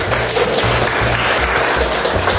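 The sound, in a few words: class applauding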